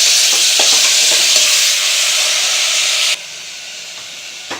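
Tomatoes sautéing in a hot pan for tomato rice give a steady, loud sizzling hiss with faint stirring scrapes, dropping suddenly to a quieter sizzle near the end.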